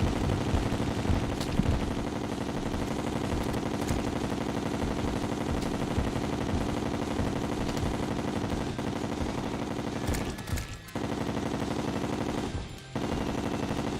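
Homing missiles fire in the Terraria video game during a Master Mode Moon Lord fight, a dense, continuous rattle of rapid launches and impacts under steady battle noise, with a brief dropout near the end.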